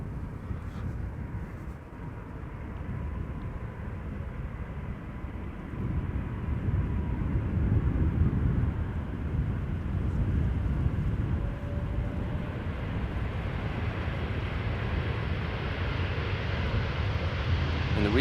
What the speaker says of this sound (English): Turkish A330 arriving from Istanbul, flight